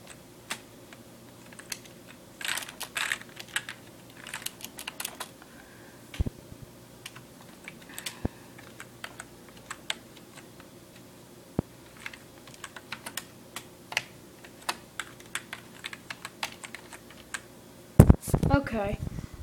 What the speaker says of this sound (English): Password, type in your password.